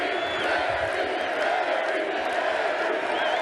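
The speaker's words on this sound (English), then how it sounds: "And then you get chants from the crowd." A big baseball crowd roars and chants together, a loud, steady wall of voices with scattered whoops that holds without a break.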